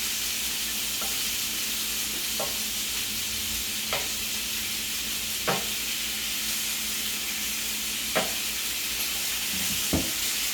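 Shrimp sizzling in a hot pan for Southern shrimp and grits, a steady frying hiss broken by a few distinct scraping stirs spaced a couple of seconds apart.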